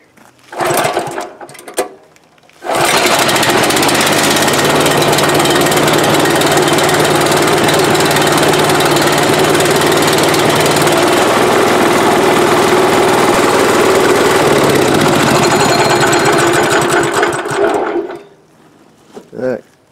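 A small pull-start engine with freshly adjusted valves coughs briefly on the first pulls, then catches and runs loud and steady for about fifteen seconds before cutting off into quiet.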